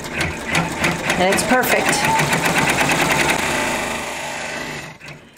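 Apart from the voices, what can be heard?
embroidery machine stitching applique tack down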